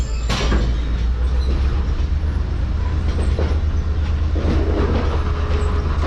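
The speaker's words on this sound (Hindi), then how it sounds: "तो ट्रेन हमारी जो है वो देख सकते हैं आपके उल्टी जा रही है इस वक्त प्लेटफॉर्म पर लगने" Mohen Jo Daro passenger train rolling at Habibkot Junction in Sindh after heavy rain, a steady loud rumble of wheels and carriages with faint clatter throughout, no voices.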